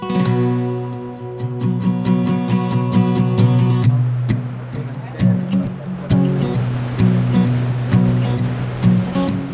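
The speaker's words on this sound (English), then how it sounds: "the first thing that comes to mind, of course, is the falls themselves" Tahquamenon Falls waterfall roars steadily with a broad wash of noise, while music with sustained tones and scattered percussive hits plays over it.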